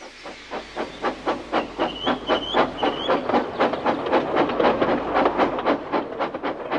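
A steam engine train chuffs in a steady, rhythmic series of hissing steam bursts, with a brief whistle-like tone early on, moderately close and alone.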